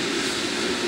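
A plane flies in Resident Evil 6, a steady loud engine drone roaring without break through the brief stretch, with no talk.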